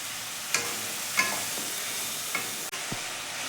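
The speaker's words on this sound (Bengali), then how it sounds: "অল্প জল দিয়ে দিয়ে এটাকে ভালো করে কষবো মশলাটাকে" A spice paste for kadai paneer with ground cashews and powdered spices, cooked down in a pan with a little water, gives a faint low sizzle and a few sharp stirring clinks and scrapes.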